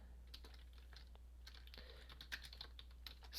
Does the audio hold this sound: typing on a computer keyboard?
yes